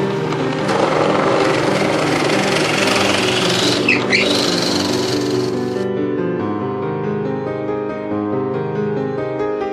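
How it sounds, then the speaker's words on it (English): A power drill bores a larger hole in a wooden piece for a kitchen drawer organizer, with a loud, continuous grinding whir throughout and a brief dip midway. The high bite of the cut drops away near the end as the motor runs on. "So I'm going to drill a little larger hole, all set a little higher up on the piece."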